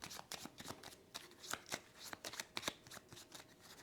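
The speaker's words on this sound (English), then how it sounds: "giving them a shuffle" Cards from a standard Mysticana deck shuffled for a solo game of Mysticana Realmseekers, a steady run of close, crisp riffling bursts with no voices.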